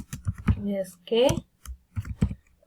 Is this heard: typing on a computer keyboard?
yes